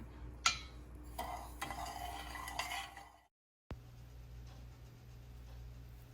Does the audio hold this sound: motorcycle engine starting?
no